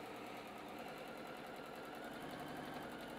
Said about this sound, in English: I'm gonna come on over to my sewing machine, drop the presser foot, and I'm gonna sew all the way through